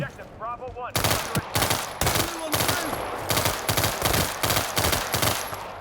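Rapid gunfire in a WorldWar 3 shootout, sharp repeated bursts of shots in quick succession, loud and close, with a brief voice at the start before the firing begins.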